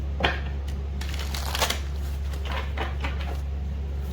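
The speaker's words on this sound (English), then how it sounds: "I'll give it one more shuffle." Tarot cards riffle and slap together in quick repeated bursts of crisp shuffling close by, over a low steady hum.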